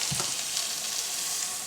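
Seafood slides into a hot pan of sauce for fettuccine, setting off a steady, hissing sizzle with soft bubbling and a faint stir near the start, close and constant throughout.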